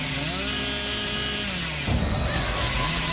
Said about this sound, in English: I really want to hit somebody with the overdrive chainsaw